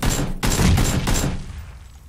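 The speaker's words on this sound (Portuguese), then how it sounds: "Tô atirando o cara atrás da escada." Gunfire in the video game Battlegrounds (PUBG), loud close bursts of rapid shots separated by short gaps, then fading.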